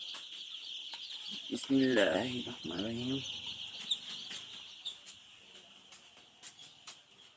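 Baby chicks in a poultry brooding pen keep up a constant high-pitched peeping chorus. A person speaks briefly over them, and scattered soft taps and clicks are heard near the water containers.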